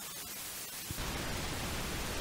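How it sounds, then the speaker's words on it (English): Pink noise from a Moog Model 15 synthesizer app on iPad, a steady broadband hiss that switches on after a quieter, thinner noise and holds loud and even to the end. "Let's listen to this pink noise."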